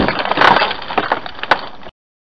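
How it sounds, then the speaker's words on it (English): Something crashes through a wooden roof: a burst of splintering, cracking wood with several sharp snaps and debris clatter over about two seconds, loud and close, then sudden silence. "That would be a scary logo crashing through our roof."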